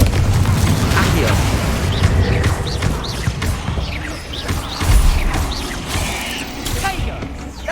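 Confringo blasting spells explode in Hogwarts Legacy, giving repeated heavy booms and crashes. A voice shouts spell incantations over the blasts.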